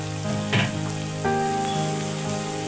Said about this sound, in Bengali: পেঁয়াজটাকে খুব ভালো করে আমি ভেজে নেব